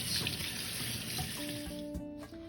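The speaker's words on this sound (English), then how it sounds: "just give it a nice rinse to make sure most of the salt is removed" Tap water runs steadily into a colander in a kitchen sink, rinsing brined food to wash off the salt, a continuous close hiss and splash with a faint clink near the end.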